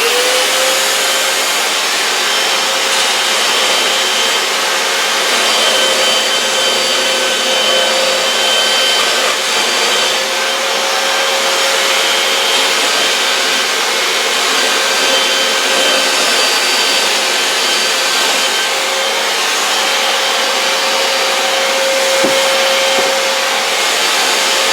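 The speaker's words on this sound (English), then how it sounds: "we're gonna round the corners of the plexiglass with a belt sander" A belt sander rounding the corners of a plexiglass sheet gives a loud, steady, unbroken whine and hiss that runs throughout with no pauses.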